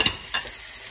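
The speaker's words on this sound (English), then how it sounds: "And I'll just push down on that a little bit and get that sizzling." Ground beef sizzles in a pan, a brief bright crackling hiss with a quick scrape of stirring at the start, close and moderately loud, no voices.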